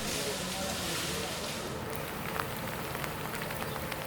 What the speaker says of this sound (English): The morning begins with a gentle drizzle that paints the world in soft shades of gray.